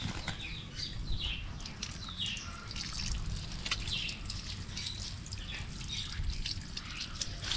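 Water washing over a muddy pet turtle, a steady close trickle and splashing dribble that runs without a break and with no voices.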